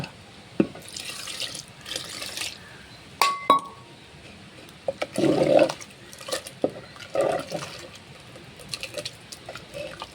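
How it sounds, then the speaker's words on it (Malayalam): Water is poured into a papaya curry in short splashing bursts, mixed with light clinks of glass or utensils, close by and intermittent, with no talking. "നമുക്ക് എത്ര വെള്ളം വേണോ അതിനാവശ്യത്തിന് വെള്ളം ഒഴിച്ചു കൊടുക്കാം"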